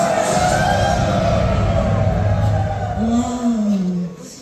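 A large crowd at a lawmaker's activity report rally in Pohang roars with sustained cheering and shouting, loud and continuous for several seconds before tapering slightly, with a raised voice rising over the din near the end.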